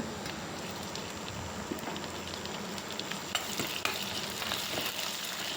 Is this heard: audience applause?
no